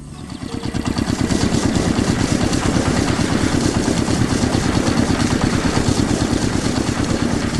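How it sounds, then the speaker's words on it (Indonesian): Machinery runs in a large factory with a loud, steady mechanical drone and a rapid, even pulsing throb that continues without a break, close and dominant. "Suara mesin pun mengisi udara, membuat suasana semakin menarik."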